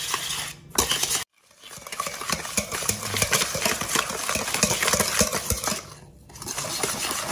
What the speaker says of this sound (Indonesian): Kita aduk sampai gulanya larut aja ya.